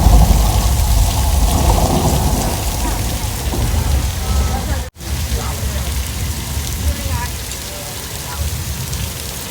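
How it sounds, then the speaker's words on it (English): Heavy rain pours down on the Universal Studios Hollywood tour, a dense steady hiss of water with low rumbling underneath, loud and continuous apart from one abrupt momentary dropout midway. "it looks like the rain is just starting to come down pretty heavy"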